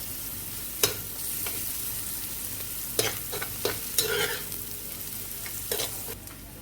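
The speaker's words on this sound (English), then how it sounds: "Now I'm going to fry these both off for another couple of minutes." Onions, garlic, green chili and coriander stems frying in a pan, giving a steady close sizzle broken by several sharp scraping stirs of a utensil, with no talking.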